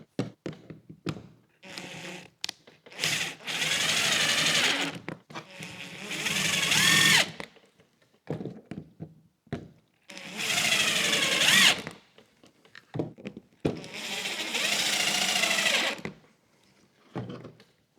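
A power screwdriver pulls screws out of a MacBook Air in several long whirring bursts separated by short pauses with small clicks and taps, close and fairly loud.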